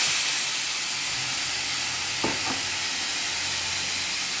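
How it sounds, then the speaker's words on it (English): Steady hiss of rabbit meat browning in a frying pan, with a couple of brief clinks or scrapes partway through. "now I'm going to brown him in the frying pan"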